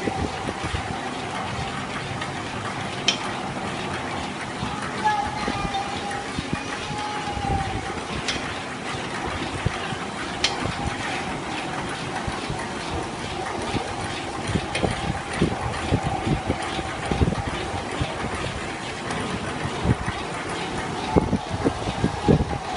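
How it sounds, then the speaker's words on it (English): A large homemade Stirling engine with a second piston connected runs steadily, giving a continuous churning mechanical noise with rapid rhythmic knocks, fairly loud and close throughout. "We've got much more speed and power out of the engine because things are now more in proportion."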